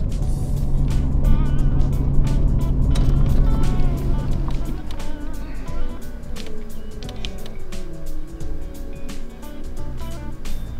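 A vehicle drives along a road before daylight on the way to a public-land bowhunt, its steady engine and road rumble running loud and continuous throughout, with a shift in tone partway through.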